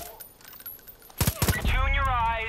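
A short burst of rapid gunfire in the video game Far Cry 5 crackles out in quick succession, followed by a sustained whooshing, roaring sound.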